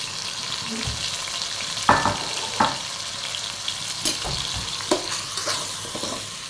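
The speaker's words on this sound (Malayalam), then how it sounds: "എണ്ണയിലിട്ട് ഈ അരി നന്നായി വറുത്തെടുക്കണം." Washed rice sizzles steadily in hot oil while a spoon scrapes and stirs the pan in repeated, uneven strokes.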